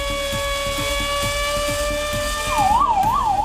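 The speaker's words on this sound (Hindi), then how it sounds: "एयर रेड सायरन बजने लगे।" Sirens sound during an air raid mock drill. Steady droning tones and a low rhythmic pulse give way to a loud, fast up-and-down wail near the end.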